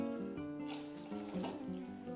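Water is poured from a cup into cornflour in a bowl for red halwa, making a close, continuous splashing pour over soft background music.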